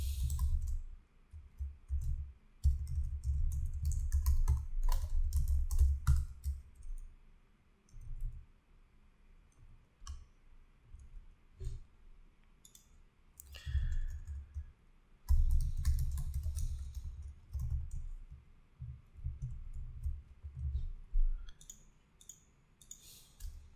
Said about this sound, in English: inside of the Typora interface, you can type as you normally would